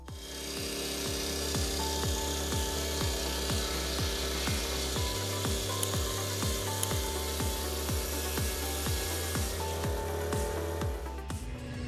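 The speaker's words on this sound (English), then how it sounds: "Looking at the powerful and durable working ability of this chainsaw" Large sawmill saw cutting through wood with a loud continuous grinding drone and a regular pulsing rhythm of repeated strokes, steady from start to finish.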